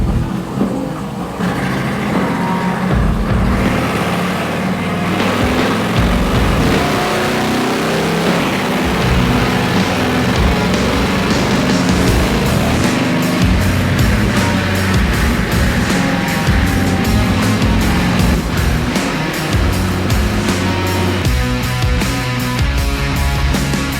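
A Harley-Davidson Softail Slim motorcycle engine runs loud and close on a dyno, holding a steady roar before climbing into a long, rising rev pull that stays full and throaty throughout.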